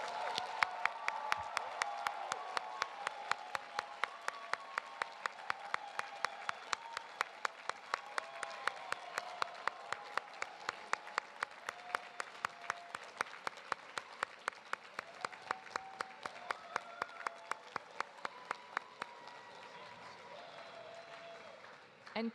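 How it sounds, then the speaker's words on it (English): Sustained applause from a large audience at a graduation hooding ceremony, steady clapping throughout with a faint rhythmic tapping running underneath. "Please join me in another round of applause for all of our graduates."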